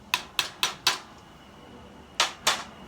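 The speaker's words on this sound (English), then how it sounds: "Then I'd give it just a little tap to get it started." Light metal taps on a Mercedes 450SL auxiliary air valve part held in a vise, from a 1975 car: four quick, evenly spaced clicks, a pause, then two more, close and crisp against a quiet background.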